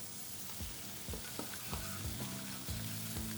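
Butter melting and sizzling with bacon in a hot frying pan gives a steady, loud frying hiss, with occasional bumps and scrapes as the pan contents are stirred.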